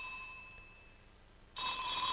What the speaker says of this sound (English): Our phone.